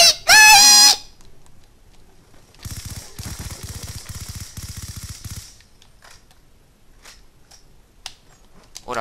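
Automatic gunfire in the video game Call of Duty: Black Ops 2: a loud burst at the start, then a rapid, evenly spaced string of about a dozen shots lasting several seconds, followed by quieter scattered game noises.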